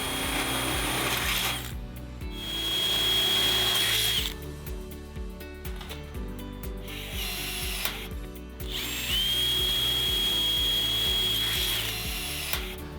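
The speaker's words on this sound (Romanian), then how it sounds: "Continuăm montajul prin găurirea jaluzelelor folosind orificiile deja existente în profilele verticale" A power drill whines through metal fence louvers in several bursts, drilling through existing holes in vertical profiles, the motor pitch rising and dropping between runs, with brief clicks and pauses in between.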